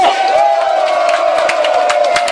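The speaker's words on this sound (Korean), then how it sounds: "박수 한번 쳐주시기 바랍니다." Audience at a Korean political rally cheering and shouting, a loud continuous crowd roar with whoops and some clapping, close and dense throughout.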